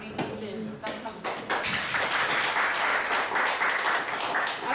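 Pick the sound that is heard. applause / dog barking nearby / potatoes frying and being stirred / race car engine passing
applause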